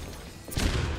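A sharp gunshot from Overwatch hitting an enemy cracks out midway, a single loud burst with a short booming tail over faint game ambience.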